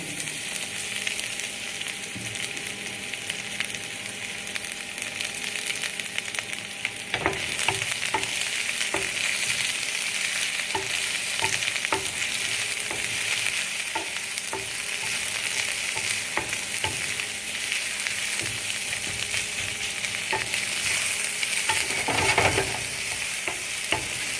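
Onions frying in a pan until translucent, a continuous close sizzle broken by repeated spoon scrapes and taps against the pan, no talking.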